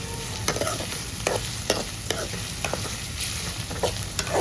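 Chopped onion, ginger, tomato and green chili sizzle and fry in hot oil as a spoon stirs the pan, steady close sizzling broken by regular scraping clatters of stirring, no voices.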